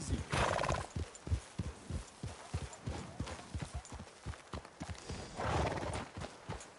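Horses in Red Dead Redemption 2, with steady clip-clop hoofbeats on the ground and two loud neighs or whinnies, one at the start and one near the end, close and clear with no talking.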